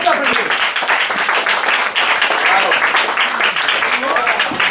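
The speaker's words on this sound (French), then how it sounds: "on peut applaudir" An audience at an improv theatre show in a bar breaks into sustained, dense applause mixed with cheers and voices, loud and steady throughout.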